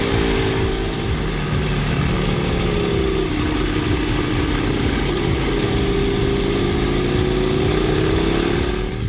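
A motorcycle running on Michelin Road 5 tyres has its throttle rolled on gently, the engine note droning loud and close with a slowly rising and falling pitch, no voices over it.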